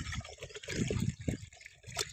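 Water being stirred together with cattle feed in a container for a cow on a farm, giving short trickling, sloshing splashes that come and go close by, with no talking.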